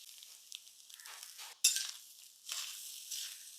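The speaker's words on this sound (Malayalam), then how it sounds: "വെളിച്ചെണ്ണ തന്നെ വേണം കേട്ടോ ഇതിനകത്ത് കുറച്ച് എണ്ണ ഒഴിച്ചു കൊടുത്തു തേങ്ങ ഇട്ട് കൊടുത്തു" Grated coconut fries in hot coconut oil with a faint, thin sizzle, broken by a sharp metallic clink of a spoon against the pan and soft stirring scrapes.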